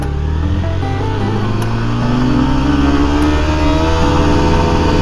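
A Yamaha FZS v2 motorcycle accelerating hard in first gear, engine note climbing steadily in pitch as it revs out, loud and close with no pause.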